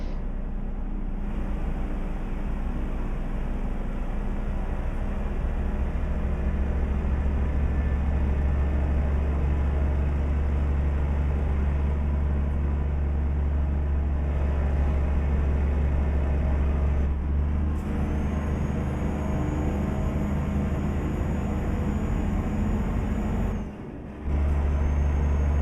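A heavy Euro truck hauling a fuel tanker in Euro Truck Simulator 2 drones steadily at low pitch, a constant close engine and road rumble with a short dip near the end, no talking.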